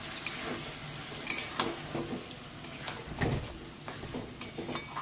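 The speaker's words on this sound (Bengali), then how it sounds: "আমি অল্প অল্প করে জল দিয়ে মাংসটাকে খুব সুন্দর করে কষিয়ে নিচ্ছি" Chicken sizzles in a pan with small splashes of water as it is stir-fried for a light papaya and chicken curry, with steady frying hiss and intermittent scraping, clinking stirs close by.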